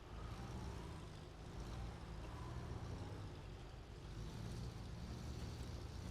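A Khan 39 Marshall truck in SnowRunner grinds its engine steadily uphill out of a quarry, a loud, continuous low drone that holds without a break.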